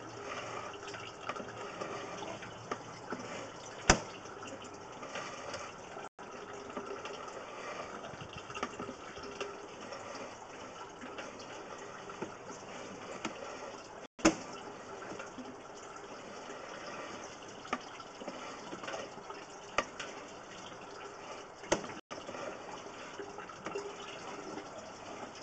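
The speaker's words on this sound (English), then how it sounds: "This right here is water coming from the upstairs restroom." Steady rushing flow of water from an upstairs restroom through a 4-inch sewer pipe, continuous and hollow-sounding, with a few sharp clicks along the way and no voices.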